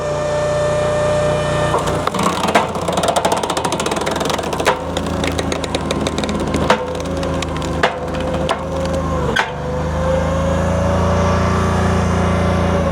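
A Honda iGX800-powered 42 XDI extreme duty industrial wood splitter runs at full throttle with a steady engine drone while its wedge forces through a big round of dry, knotty wood, with loud cracks and splintering pops.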